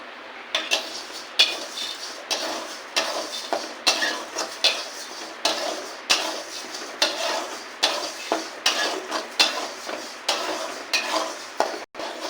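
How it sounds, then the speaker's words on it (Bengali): Dry dal being roasted and stirred in a pot for khichuri, with repeated scraping strokes of a spoon against the metal in a steady rhythm over faint sizzling. "ডালটা ভেজে নিয়েছি, সেন্ট বেরিয়ে গেছে"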